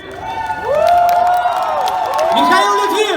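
Outdoor crowd at a Moscow blogger battle cheering and shouting loudly, with high whoops and yells rising over steady clapping, sustained throughout.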